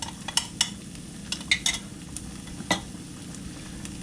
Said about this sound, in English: So we're going to stir that in.